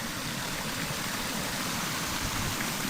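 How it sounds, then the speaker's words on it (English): A creek running high after rain rushes steadily with a dense, broadband roar of flowing water, close and continuous, with no voices. "And you can see the creek is really flowing too"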